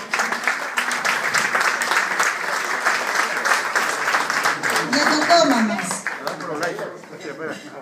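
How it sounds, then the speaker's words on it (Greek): At a Communist Party of Greece anniversary event, a gathered audience claps loudly and continuously, with voices rising through the applause before it fades toward the end. "Ένα χειροκρότημα."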